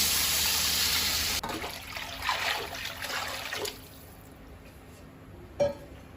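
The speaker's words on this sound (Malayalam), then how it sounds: "ഇതിന് രണ്ട് ബൗൾ വെള്ളം നമുക്ക് ഇതിലോട്ട് വെച്ച് കൊടുക്കാം" Water poured into a pot of rice for biryani, a steady loud stream at first that breaks off, followed by lighter splashes and trickles, then quiet with one brief clunk near the end.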